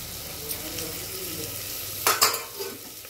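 Onions browning with turmeric in a hot pan, a continuous close sizzle with stirring scrapes and a couple of louder clatters near the end.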